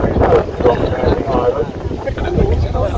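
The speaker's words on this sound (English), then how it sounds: "It's getting windy" Gusting wind buffets the microphone on the open deck of a paddle steamer heading for Southend-on-Sea, a loud, steady roar with rumbling low noise throughout.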